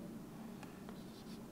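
Chalk or marker writing a number on a classroom board, a short run of faint scratching strokes and taps close by in a quiet room.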